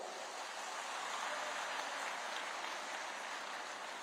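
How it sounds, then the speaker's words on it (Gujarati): A large crowd applauds donors at a ceremony for a girls' hostel, a dense, continuous roar of clapping that holds steady and full from start to finish. "તાળીઓના ગગડાટથી આપણે સૌ વધાવશું"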